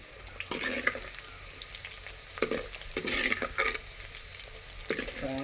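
Garlic and shallots fry in leftover fish-frying oil in a clay pot over a wood fire, with a steady close sizzle broken by intermittent scraping stirs.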